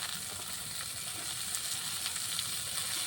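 Leafy greens hit a hot pan of fried onion, garlic and chili, giving an even, bright sizzle that holds steady and fairly quiet throughout with no talking.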